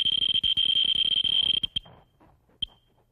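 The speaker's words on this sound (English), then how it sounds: "This can measure the gamma rays that the uranium emits. You hear a little beep." Rapid beeping from a Geiger counter held close to uranium-glazed dinner plates, a fast train of clicks that thins out and stops, with one last isolated beep.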